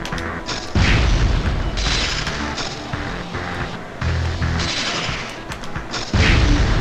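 Heavy explosions and laser blasts from a Spider-Man video game, with repeated loud booms and crashes arriving in bursts every second or two, along with sharp mechanical impacts.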